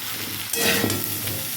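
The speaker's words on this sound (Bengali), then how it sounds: "আমি আদাটা পরে দিয়ে একটু কষিয়ে নিচ্ছি" Ginger sizzling and frying with mixed vegetables in a pan for a vegetarian dish, a steady close hiss that swells briefly midway as the pieces are stirred.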